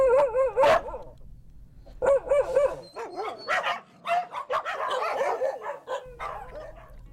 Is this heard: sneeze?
no